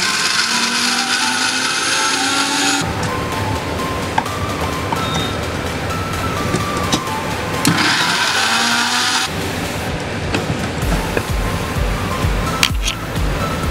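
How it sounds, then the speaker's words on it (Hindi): An electric mixer grinder blending falafel mixture with green chillies, a loud, whirring motor drone that starts and stops in several bursts, with the pitch shifting as the contents churn. "मिक्सी में चला देना जब एकदम मिक्स हो रही है"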